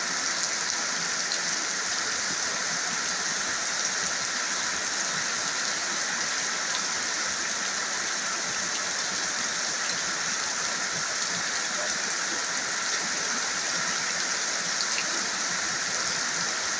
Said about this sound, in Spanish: Fuerte tormenta desde los bajos de Baracoa, aldea Paleto.